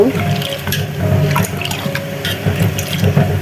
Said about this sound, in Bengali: আর এইদিকে আমি ডালটা ধুয়ে নিচ্ছি